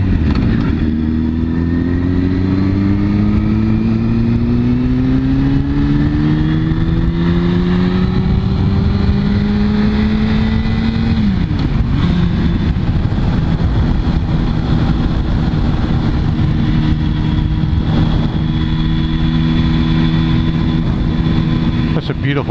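A motorcycle engine runs steadily and loud throughout, its pitch climbing under acceleration before dropping back to a lower drone as the rider slows and rolls on, with wind noise and some talk over it.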